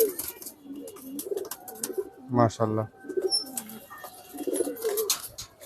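Pigeons from a poultry tournament fancier's loft coo in short, throaty bursts close by, with soft bird chatter around and someone speaking briefly between the calls.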